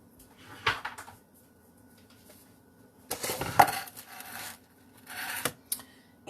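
A few wooden knocks and clatters as a chopping board is moved and set down, with quiet gaps between the bursts.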